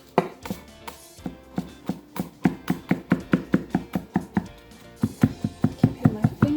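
Knife chopping vegetables on a cutting board while prepping an easy vegetable stir fry; a steady run of sharp, close, evenly spaced chops with a brief pause partway through, heard alone without talk.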